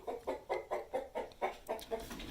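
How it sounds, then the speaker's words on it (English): A rooster in a workshop area lined with chicken wire clucks in a steady series of about nine short, even calls, close and fairly loud, with no talk. "I have a rooster that migrated over here."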